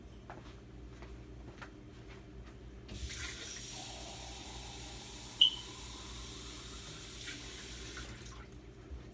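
Water from a kitchen tap runs into a Cuban stovetop coffee maker, a soft steady hiss that starts partway through, with a brief clink near the middle and quiet room noise beforehand.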